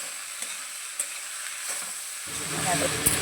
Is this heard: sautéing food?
yes